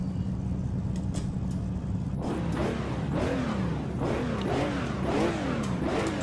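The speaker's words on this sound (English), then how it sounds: "Good engine sounds as well." A 1960s touring car engine in the Assetto Corsa racing game revs loudly and cycles up and down through repeated rising sweeps as gears change, near and alone.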